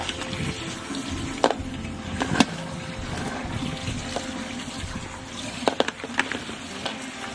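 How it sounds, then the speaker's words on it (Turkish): Black olives are rinsed under running water, a steady soft trickle with occasional sharp taps and clicks from handling, close and fairly quiet. "Şimdi bunları hemen yıkıyorum ve biraz kurutacağım."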